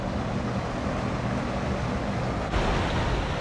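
River water rushes steadily beneath an old stone bridge in rural Sichuan, just downstream of a small weir, a continuous broadband wash with no break.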